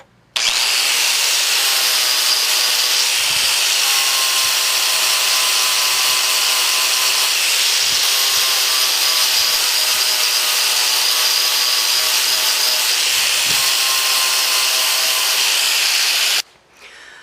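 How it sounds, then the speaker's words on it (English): A wire wheel scrapes powder coating applied over Bondo body filler, giving a loud, continuous, harsh grinding whir that holds steady for about sixteen seconds before cutting off. "Let's go ahead and try the wire wheel and see if it does anything."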